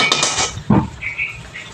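Metal clanks as a frying pan and utensils knock together in a home kitchen while milk is being thickened with cardamom for chomchom, one sharp clink followed by lighter scraping and tapping, close and with no voices.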